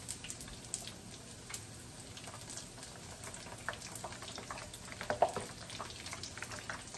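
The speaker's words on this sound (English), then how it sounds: "And let's fry them." Birria taco egg rolls frying in hot oil give a steady, moderately quiet crackle and sizzle of fine popping that continues without a break, with no one speaking.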